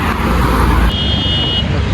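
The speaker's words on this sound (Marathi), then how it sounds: "गाड्या बघा किती रफ्तार येतात निघणं." Steady roar of fast-moving road traffic on a highway toward Khandala, with cars passing close and loud throughout and a brief high whine near the middle.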